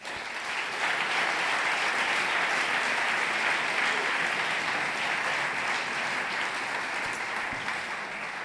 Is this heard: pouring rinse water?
no